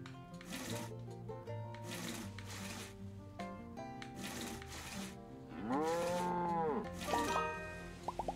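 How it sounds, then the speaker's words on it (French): A cow in the farming video game Farm Land moos repeatedly, a series of loud, close, harmonic lows spaced across the clip, the last one longer and bending in pitch. "On peut traire la vache."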